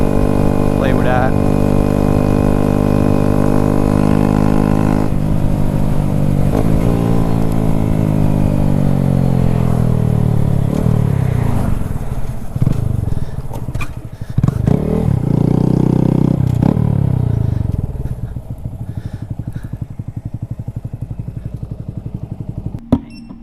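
A Honda Grom motorcycle revs and accelerates nearby, its engine note climbing and falling with the throttle before fading away as it rides off.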